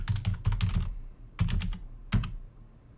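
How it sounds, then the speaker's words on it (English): Close, crisp typing on a computer keyboard, with quick bursts of keystrokes separated by short pauses and no talking. "you can type in your name here"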